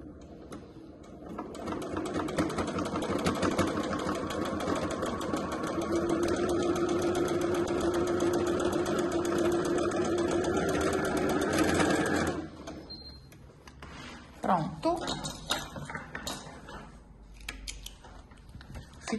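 A sewing machine runs a straight seam along the edge of the lining of a small printed digital tricoline fabric wallet, whirring steadily and close for about twelve seconds before stopping, followed by a few soft handling clicks.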